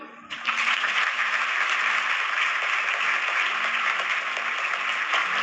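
A large crowd at a Hindu religious storytelling discourse breaks into loud, sustained clapping that starts abruptly and continues steadily without pause.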